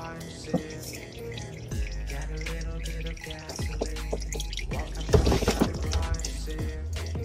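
Motor oil drains from a car's oil pan in a close, steady pouring trickle, broken by irregular drips and splatters throughout.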